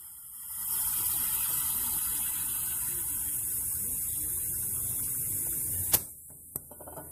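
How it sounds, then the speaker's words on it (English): Compressed air from a compressor hissing steadily into a refillable aerosol can as it is charged, a continuous loud rush lasting several seconds before a sharp click and a brief second burst as the fitting is released. "So fill this bad boy up with compressed air."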